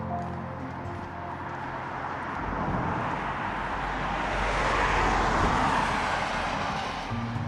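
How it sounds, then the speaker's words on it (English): A car approaches in County Donegal, Ireland, its broad rushing noise swelling to a peak and then fading slightly, heard from a moderate distance. "Come on, Willow, car coming, rush hour."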